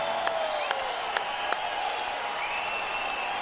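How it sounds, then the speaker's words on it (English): Arena crowd applauding after a three-round Strikeforce MMA bout between Conor Heun and Jorge Gurgel, a steady wash of clapping and cheering with a few sharp claps and whistles standing out over continuous background noise. "they both deserve a round of applause"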